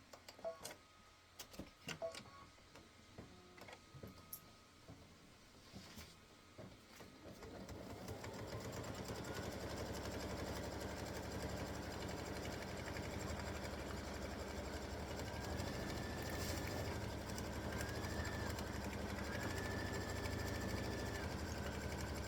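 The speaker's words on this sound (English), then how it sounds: "color stop number 7 is going to stitch a placement line for the envelope" An embroidery machine stitching a placement line for an appliqué envelope on a Valentine bear design: a few scattered ticks and clicks, then a steady, fast, continuous mechanical whirr and clatter of stitching close up.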